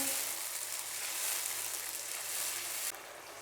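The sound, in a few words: tomato paste frying in a pan for masala rajma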